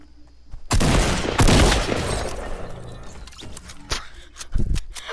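Gunshots in the video game Fortnite, several sharp loud cracks firing in quick succession with echoing tails, followed by scattered lighter shots and impacts.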